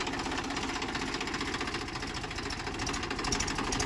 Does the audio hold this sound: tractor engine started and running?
yes